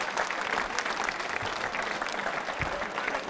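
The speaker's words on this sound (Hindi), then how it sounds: "तालियां जोरों से बजाइए इनके लिए" An audience of accounts officers at a quiz show applauding, a continuous, even roar of many hands clapping heard from a moderate distance, without talk.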